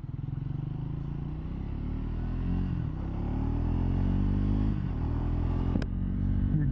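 A 2024 Triumph Speed 400 motorcycle on the move in fourth gear, its engine a steady close drone that climbs gradually in pitch, with a brief click near the end.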